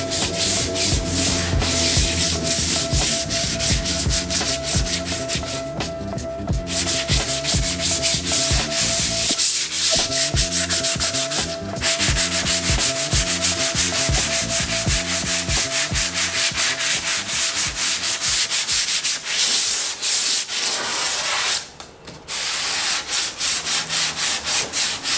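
A car's rear fender body line is hand sanded with 220 grit sandpaper in loud, close, rhythmic back-and-forth strokes that run almost continuously, with a couple of brief pauses near the end.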